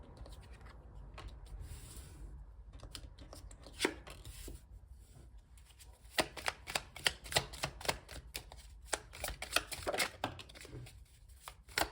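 Tarot cards are shuffled and handled up close, giving rapid dry riffling and slapping bursts that grow denser toward the end, with no talking.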